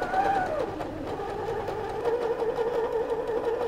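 An Usha Dream Maker 120 embroidery sewing machine stitches a pattern with a steady, fast mechanical whir and a rapid needle rhythm, close and continuous, with no speech.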